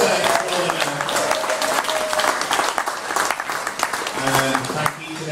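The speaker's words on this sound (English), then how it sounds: "a big round of applause to Kim Ryan, producer extraordinaire." Audience at a screening event at the Museum of Liverpool gives a round of applause, dense clapping at moderate distance with crowd noise mixed in, swelling and fading slightly across the stretch.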